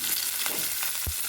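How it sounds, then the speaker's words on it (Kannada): Spices fry in hot oil in a pan as part of seasoning for a rajma masala curry. A dense, close sizzle continues throughout with a couple of soft stirring knocks. "ಅದನ್ನು ಎಣ್ಣೆಗೆ ಹಾಕ್ಕೊಂಡು ಸ್ವಲ್ಪ ಹುರ್ಕೊಳ್ಳೋಣ ಈ ಥರ"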